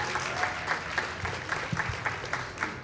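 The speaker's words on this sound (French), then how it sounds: "Merci de l'applaudir." A crowd claps to welcome a young radio journalist on stage at a young-talent final during a radio trade fair, moderately loud applause with a loose, pulsing rhythm throughout.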